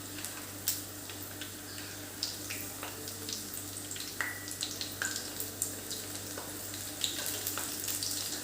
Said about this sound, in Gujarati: સૌથી પહેલાં આપણે આઠથી દસ કળી લસણને મેં થોડીક તોડી કરી હતી એ તળી લઈશું